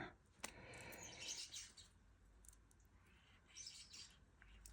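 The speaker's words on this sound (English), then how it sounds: "Can you hear the birds fighting over the bird food?" Faint chirps and squabbling calls of starlings fighting over bird food in the distance, scattered in short bursts over a quiet background.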